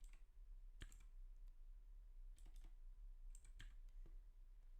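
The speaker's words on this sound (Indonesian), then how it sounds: "Setelah kalian ketik seperti ini, tinggal tekan enter." Keystrokes on a computer keyboard entering a Windows 10 shutdown command: scattered sharp clicks in small clusters, some doubled, with a steady low hum underneath and no voice.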